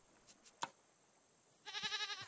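A goat in the Raft survival game gives one wavering, quavering bleat near the end, after a few soft clicks and taps, fairly quiet and on its own.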